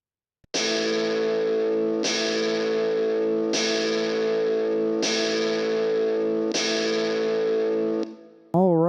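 Five loud distorted electric guitar power chords strummed in a steady rhythm, each ringing out fully before the next, with a wobbly effect-laden note at the end.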